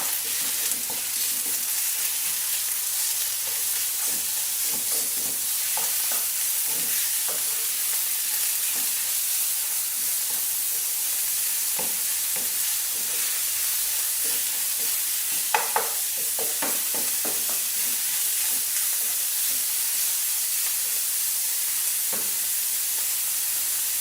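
Kofta meat sizzling and frying steadily in a pan while home-cooking Moroccan harira, with a continuous close hiss broken by occasional stirring clicks and scrapes.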